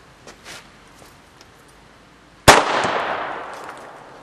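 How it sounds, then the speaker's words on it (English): A Dynatec BFIG airsoft grenade goes off after a quiet lead-in with a few faint clicks, giving one sharp loud bang followed by a long hissing release that slowly fades. "I'm going to try to throw the grenade up a little bit in the air and land there and see if you get an idea on the sound"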